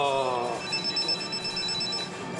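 A steady electronic phone beep repeats in a high tone, moderately loud and close, with a brief murmur of sound at the start.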